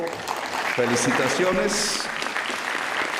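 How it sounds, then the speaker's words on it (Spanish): Applause for National Police cadets at a Colombian change-of-command ceremony, a crowd clapping steadily while a voice speaks briefly over it. "y un aplauso a ustedes, muchachos y muchachas de la Policía Nacional"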